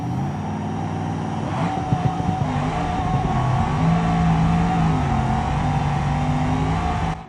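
A twin-turbo drag race car roars past at full throttle on a 261 mph night pass, a loud sustained engine howl that holds steady before cutting off abruptly at the end.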